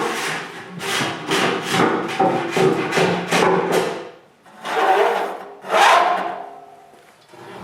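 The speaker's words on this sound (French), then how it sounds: "Je peux aussi varloper tout le tour des ouvertures." A hand plane is pushed over wood around the openings of a shop-built dust filtration box, giving a run of quick rhythmic rasping strokes and then two longer, louder shaving passes close by.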